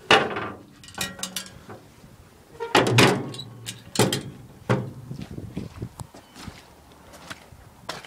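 Several metallic thunks and clanks of the top cover of a 1982 Bobcat 825 diesel skid loader being handled and slammed shut, close and loud, with scattered rattles in between.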